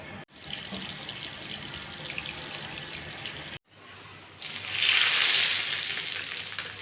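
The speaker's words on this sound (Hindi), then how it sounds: "अब मैं इनको डाल दूंगी देसी घी में और अच्छे से करूंगी फ्राई।" Sliced garlic frying in desi ghee for a tadka on mustard greens (sarson ka saag), a steady sizzle that swells louder partway through, broken by a brief silent gap.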